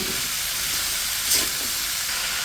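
Even hissing sizzle of radish and vegetables in oil left over from frying hilsa fish, a steady close crackle with no talk.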